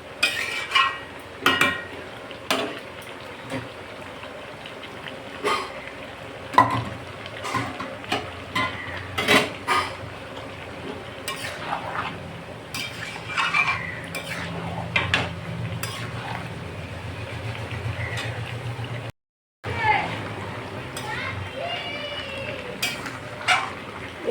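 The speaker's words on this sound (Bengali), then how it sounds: "ঢাকাটা খুলে আবার একটু নেড়ে দিচ্ছি এবার দিয়ে দেবো টমেটো কুচিগুলো" A spoon scrapes and knocks in a pan while meat curry with chopped tomatoes is stirred, with sharp intermittent clinks over a low, faint sizzle.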